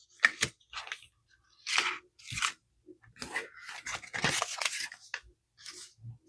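Scissors snip through paper for a flip pocket insert in a series of close, crisp cuts, irregularly spaced with short pauses between them.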